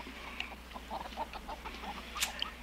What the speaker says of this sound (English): Too close to the chickens.